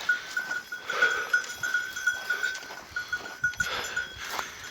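About thirteen goats bleat over a steady outdoor background, with a faint high ringing tone throughout.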